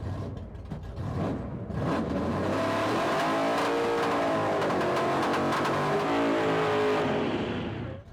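A drag-style car engine roars continuously at high revs after a parachute run, its steady roar wavering with uneven stumbles suggesting a slight misfire, loud and close throughout with no talk.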